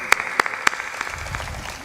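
An audience at a devotional religious gathering claps, a few sharp distinct claps at first, then the sound thins into light scattered applause.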